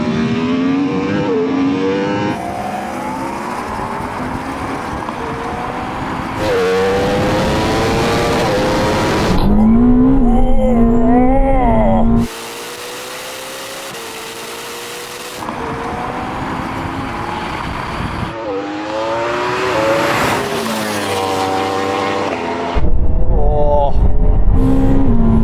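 A Porsche Taycan Turbo GT, Ferrari SF90 and Yamaha R1M launch in a drag race, with loud engine and motor noise rising and shifting in pitch across several cut segments, interrupted by talk.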